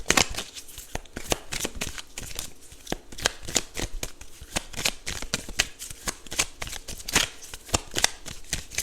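Affirmation cards being shuffled in quick, crisp riffling bursts, close and steady throughout with no talking.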